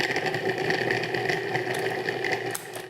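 A food processor whirs steadily while pulsing cold butter pieces into flour for apple pie crust, a close, constant motor drone that cuts off at the end.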